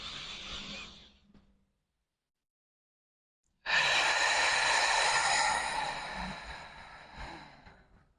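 A deep breath out during a pelvic floor exercise: a short exhale fades to silence, then a long, strong, close breath is pushed out steadily and trails off.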